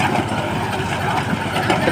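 Close by, the engine of a John Deere 5210 tractor pulling an Arise hydraulic plough hums and rumbles at an even pace, with no speech.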